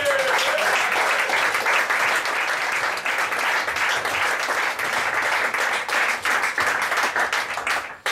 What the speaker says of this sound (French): Par Roland Catala, que je vous demande d'applaudir